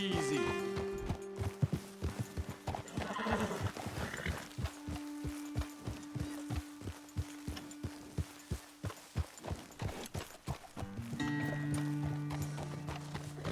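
Horse hooves in Red Dead Redemption 2 clop in a steady walking rhythm on hard ground, moderately close, with a sustained low tone running underneath.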